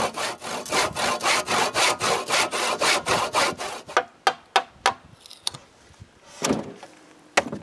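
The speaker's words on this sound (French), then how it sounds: "je peux m'occuper de couper le bout avec le bon angle." A hand saw cuts the end of a wooden dock support at an angle, with a run of fast, even back-and-forth strokes, then a few slower, separate strokes near the end. Close and clear, with no talking.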